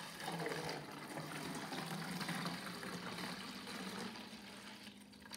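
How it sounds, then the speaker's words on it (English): Liquid poured from one container into another bowl-shaped container, a faint, continuous trickling pour lasting several seconds that fades slightly near the end, with no talk. "I'm going to pour the liquid from this container into this container"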